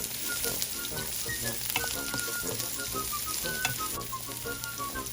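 Chopped onion sizzles steadily in oil in a pan with air-fried eggplant, a continuous bright frying hiss with small crackles and occasional stirring clinks, close and fairly loud with no talking.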